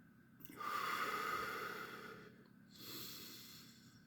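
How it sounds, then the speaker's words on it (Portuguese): A single slow, deep breath is drawn in audibly through the nose, followed by a softer exhale, close and quiet during a guided breathing exercise. "Vamos fazer uma respiração profunda."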